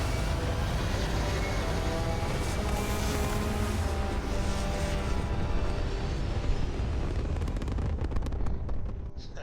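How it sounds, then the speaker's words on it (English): Spaceship engines burning in the video game Starfield, a loud, sustained broadband roar with rumbling low end that holds steady for about nine seconds, with scattered crackles toward the end. "Engines burning."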